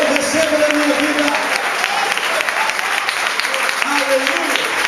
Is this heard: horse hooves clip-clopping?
no